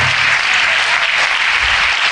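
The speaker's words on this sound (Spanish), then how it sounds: "Ese aplauso es para el Señor." A church congregation bursts into loud, continuous applause, a thick wash of many clapping hands filling the short span without pause or speech.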